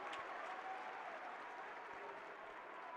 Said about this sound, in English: Purdue fans applauding the effort from Jack Benter to give the Boilermakers another possession.